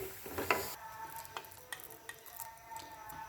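Matar kofta, pea dumplings, frying in hot oil in a pan, giving a steady soft sizzle with faint scattered pops and light clinks of a utensil, fairly quiet and with no talking.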